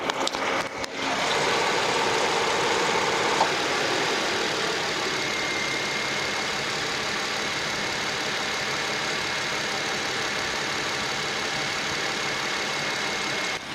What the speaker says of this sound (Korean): 엔진음 개방했고 엔진 소리 한번 들어보도록 하겠습니다